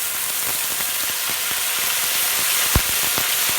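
Onion with a ground paste of cumin, garlic and ginger fries in a pan for buffalo meat and egg moong dal, a constant bright sizzle with faint stirring taps and one sharp clack.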